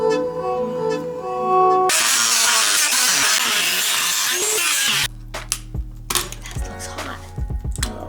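A Dremel rotary tool cuts into an Apple HomePod smart speaker, a harsh, loud whirring grind lasting a few seconds, framed by musical tones before and sharp clicks and thumps after.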